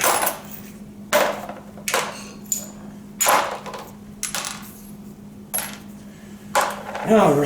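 Metal bolts and hardware from a 2009 Harley-Davidson being gathered by hand during fork removal, giving about seven sharp clinking rattles spaced roughly a second apart over a steady low hum. A voice speaks briefly near the end.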